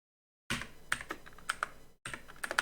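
Typing on a computer keyboard, a quick run of close, crisp key clicks with a brief pause in the middle, no voice.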